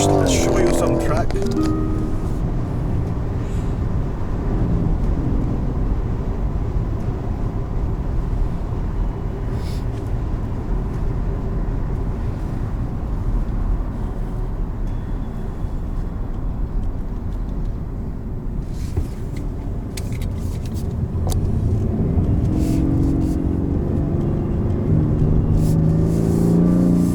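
A Rolls Royce rated at 624 horsepower drives on a racing track with a constant low rumbling engine and road noise from inside the cabin, while someone talks throughout.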